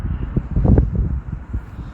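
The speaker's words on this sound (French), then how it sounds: "il y a trop de vent" Gusts of wind on a riverbank buffet the microphone, making a continuous low, rumbling roar that swells and dips without pause.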